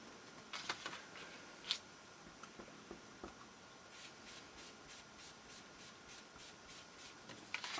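Ink dauber rubbed and swept across card for a stamped papercraft background, soft close scratchy rubbing strokes with brief taps, faint and intermittent over a quiet hiss.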